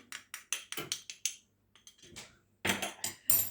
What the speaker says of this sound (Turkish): Bir tatlı kaşığı kahvemi alıyorum.